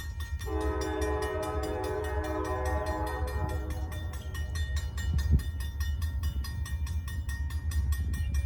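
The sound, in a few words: approaching freight train with GE and EMD locomotives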